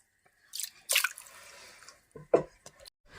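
Cut pieces of river fish, caught on a hook line for a Kerala curry, being rinsed in water, with a few short splashes and drips spread across a quiet moment.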